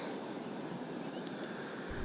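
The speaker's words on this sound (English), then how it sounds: "The waves crashing on that sandbar." Soft, steady wash of small waves breaking on a sandbar at a distance, heard from an anchored sailboat, continuous and low, with a couple of faint high bird chirps near the end.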